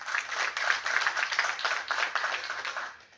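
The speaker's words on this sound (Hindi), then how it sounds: "तालियां होनी चाहिए" A crowd at a cricket award ceremony applauding with steady, dense clapping that holds for a few seconds and then tapers off.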